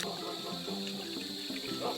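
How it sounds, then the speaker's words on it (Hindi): Cool natural spring water streaming from a mountain outlet, a soft continuous trickle and splash heard faintly with a light murmur of voices behind it. "ये आपको अलग अलग जगह पे ऐसे पानी निकलता हुआ मिल जाएगा।"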